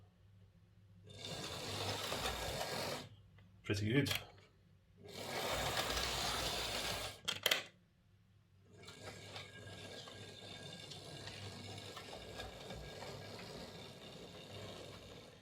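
A Hornby Dublo N2 three-rail model locomotive runs on a short piece of track with a steady mechanical whir and gear buzz. It starts and stops in several runs, with faint clicks between them and a brief remark spoken quietly.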